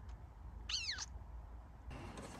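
A cat gives a single clear meow inside a camper van, close and brief, set against low background rumble, with a short burst of hiss near the end.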